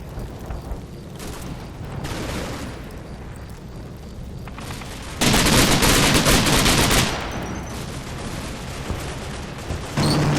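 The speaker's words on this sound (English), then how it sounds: "The troops engage in close quarters fighting." Rapid bursts of gunfire and machine-gun fire crackle in close-quarters fighting between Soviet troops and enemy infantry at a farm in Combat Mission: Red Thunder, building to a loud sustained fusillade midway before easing into scattered shots.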